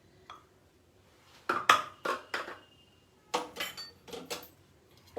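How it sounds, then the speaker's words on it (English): Corn flour being whisked into milk in a bowl: short bursts of scraping and clinking in two clusters, fairly close and moderately loud, with quiet pauses between them. "I have 1/3 cup of corn flour and I am just going to mix this with the"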